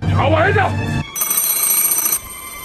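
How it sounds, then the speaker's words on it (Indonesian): A telephone bell rings loudly and close, one burst of ringing followed by a second electronic ring tone, with a low hum underneath. "Tidak lama telepon dari kantor Kojima berdering."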